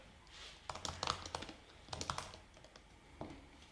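Fingers type on a computer keyboard in short, quick bursts of crisp clicking keystrokes, close and clear, with pauses between clusters and no talking.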